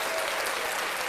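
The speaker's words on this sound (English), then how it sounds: "Let's clap that shit up" A brief burst of hand clapping, steady and dense throughout with no talking over it.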